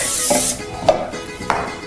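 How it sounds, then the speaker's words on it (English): Olive oil spray coats a bundt cake pan in a short hiss, followed by two quick, faint spritzes. "all I'm doing is spraying it with some olive oil spray"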